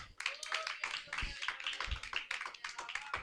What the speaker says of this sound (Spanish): ¿Cuántos pueden darle un aplauso al Señor?